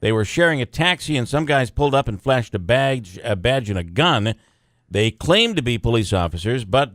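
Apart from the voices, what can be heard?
No everyday noises stand out.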